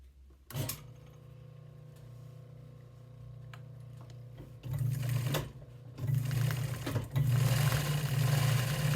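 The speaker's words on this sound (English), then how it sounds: "I'm sewing through foam." Sewing machine stitching through upholstery foam, a low motor hum broken by short bursts of fast rhythmic needle chatter that grows louder and steadier toward the end, close-up with no talking.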